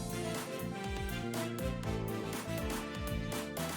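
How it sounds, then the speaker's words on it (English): Groovy lead melody doubled on violins, trumpets, saxophone and electric piano rides over a busy bass line and drums, dense and loud throughout with rhythmic stabs, instrumental only. "I gave it to violins, trumpets, saxophone, and electric piano. Altogether, it sounds like this."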